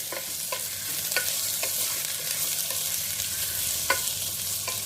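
Pieces of bottle gourd fry in a pan with a steady close sizzle, punctuated by periodic light scrapes and taps of a stirring spoon, no speech.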